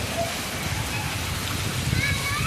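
Heavy rain pours down on a village, a dense, constant hiss of drops striking surfaces nearby, steady and loud throughout.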